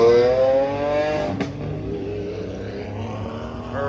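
A Lamborghini Aventador S with an SVJ front end revs at a supercar show: a loud, close engine note climbs and then drops away, followed by a lower, rougher idle and a brief clatter against the murmur of the crowd.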